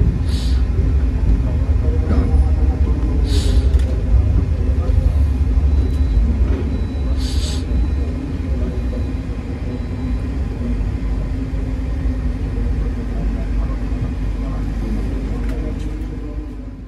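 Gaya Baru Malam Selatan train idling at a station before departure, giving a loud, steady low diesel rumble throughout with a few faint high squeals or hisses in the first half.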